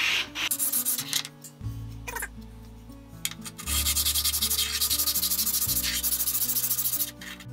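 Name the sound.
sanding hand plane body flat on sandpaper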